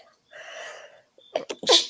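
A single sneeze in the 1966 film The Ghost and Mr. Chicken, with a drawn-in breath building up before a sharp, sudden burst, fairly quiet.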